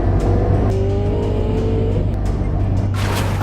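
A car drives past on a road with a loud, steady engine drone and a rising whine, close by and continuous throughout.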